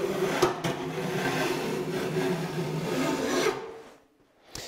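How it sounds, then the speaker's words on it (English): A metal file rasps across the teeth of a rip hand saw in long, steady strokes, a close, continuous gritty scraping that stops abruptly near the end before one last short scrape. "Now you want to do your best to hold the file nice and flat while you're doing this"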